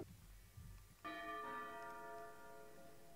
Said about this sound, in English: The bell's rung.